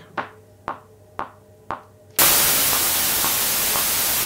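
Four short percussive ping-like hits decay one after another, then a steady, loud hiss of synthesized white noise switches on and holds.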